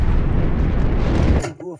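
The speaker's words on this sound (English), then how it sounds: "Launching a torpedo at a large dry cargo ship. A hit." A torpedo strikes a large dry cargo ship in a U-995 submarine naval battle, producing a loud, deep rumbling explosion that roars for over a second, then cuts off sharply into fading tonal echoes.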